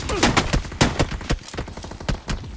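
Gunfire in the mobile battle-royale game BGMI (PUBG Mobile): rapid, uneven bursts of sharp shots repeat across the whole moment, loud and close, with no voices.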